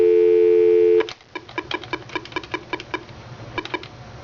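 A steady dial tone on a UCX office phone system runs loud for about a second, then cuts off and gives way to a quick series of sharp, evenly spaced keypad beeps as a number is dialed.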